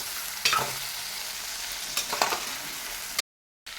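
Vegetables being mixed into masala inside a pressure cooker, with a few scraping stirs over a steady sizzle, close by, ending in a brief drop to silence.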